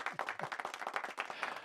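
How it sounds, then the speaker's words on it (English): Sparse clapping from a small audience greeting a guest on a jazz round-table show, individual claps distinct and fairly quiet, with no voices over them. "It's nice to hear applause."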